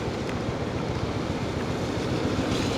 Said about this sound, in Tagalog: Lakas ng tubig dun sa kabila